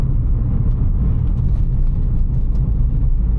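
Suzuki Swift Sport engine pulling under acceleration, a steady loud low drone with road and cabin rumble from inside the car, no speech over it.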